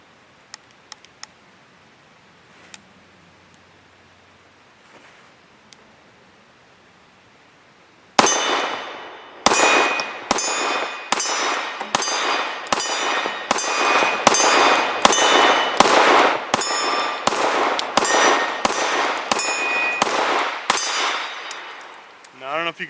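A Tisas Regent SP1 pistol firing Freedom Munitions 115 grain remanufactured rounds at steel targets: after a quiet start, a rapid string of about fifteen sharp, loud shots, each followed by a ringing metallic clang.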